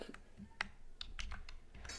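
Computer keyboard typing in a quiet room, with several separate keystroke clicks spread across the moment in an irregular rhythm, fairly soft and close.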